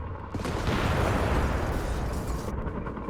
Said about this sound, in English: Oh, incendiary shot here from the Sherman.